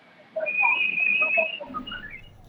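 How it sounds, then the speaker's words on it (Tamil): A crowd at a political welcome event in Trichy whistles: one long, shrill sustained whistle, then shorter rising whistles trailing off over a faint murmur. "அனைவரும் விசில் அடித்துக் கொண்டு அவர் உற்சாக வரவேற்பு அளிப்பதற்காக காத்துக் கொண்டிருக்கிறார்கள்"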